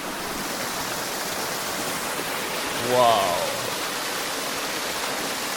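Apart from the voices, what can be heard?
river water rushing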